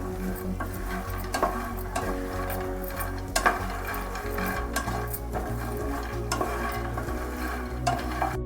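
Makhana fox nuts roast in a pan over medium heat for a chaat snack, with a faint sizzle under repeated light scraping and rattling stir strokes and a steady low hum, quiet and close.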